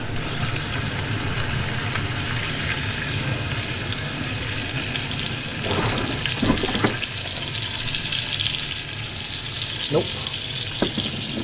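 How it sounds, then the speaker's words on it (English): Two burgers fry in a pan on a stove inside a camper van, making a continuous close sizzle with a few clinks and scrapes, and a brief spoken word over it. "Never tried cooking burgers inside the van before, so fit them both on the pan here too."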